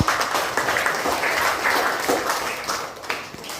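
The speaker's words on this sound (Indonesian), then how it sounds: "tepuk tangan buat kelompok 3" A short burst of applause from a group of students in a classroom, many hands clapping together at a steady, lively pace, close by, fading slightly at the end.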